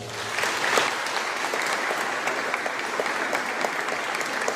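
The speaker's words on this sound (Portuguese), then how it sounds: "uma salva de palmas a Ele" A church congregation breaks into sustained applause during a homily, a steady wash of many hands clapping at an even level throughout, fairly loud and filling the room.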